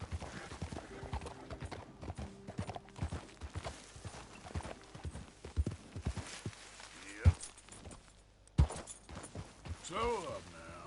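Horse hooves clip-clopping in Red Dead Redemption 2, a quick rhythmic run of close hoofbeats with a couple of louder thuds, while someone talks over it.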